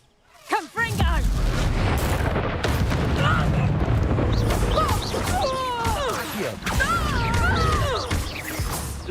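A Confringo fire spell blasts in Hogwarts Legacy on hard mode: a sudden loud burst opens the clip, then rumbling, crackling combat noise runs on with other voices shouting over it.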